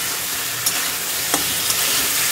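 Hilsa fish curry with eggplant simmering and sizzling in a pan, a steady hiss of frying with a few faint stirring scrapes, no talk.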